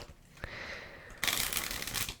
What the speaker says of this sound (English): we'll give the deck a shuffle